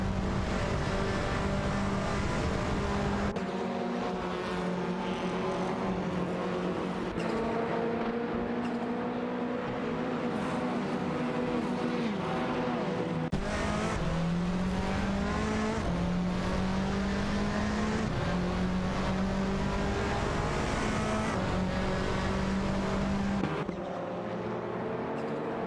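Honda Civic FA and Audi RS3 TCR race cars in a racing video game drone loudly and continuously, engine pitches rising and falling through gear changes as several cars run close together with no talk.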